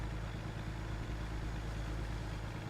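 A Peterbilt 567 truck with a 500 horsepower engine climbing a hill in American Truck Simulator, its steady low engine drone straining continuously without pause.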